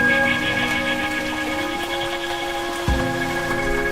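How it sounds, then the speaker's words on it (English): Steady rain patters against a window pane during a windy night storm, a dense continuous wash of droplets with a faint low thump near the end, under music-like tonal hum. "Heavy winds howled through the streets that night, and raindrops pattering against the window pane."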